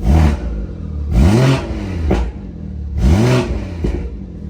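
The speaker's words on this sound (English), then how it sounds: "when I go ahead and put it into sport mode, it doesn't turn on until I give it the initial rev" Three sharp throttle blips from a BMW 340i in sport mode with a 3.5-inch Alibaba exhaust, each rev rising and dropping quickly, loud and close with popping between bursts.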